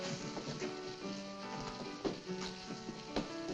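Steady rain falls in an old western movie scene, a faint continuous patter with scattered drips, heard alone without talk.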